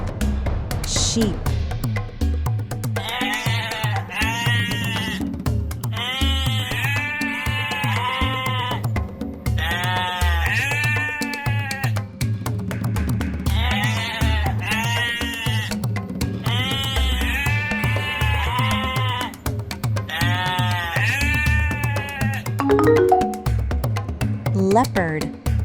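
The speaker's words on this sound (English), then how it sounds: "Sheep, sheep." Sheep bleat over and over in a regular wavering rhythm, loud and close, with a steady background beat running underneath throughout.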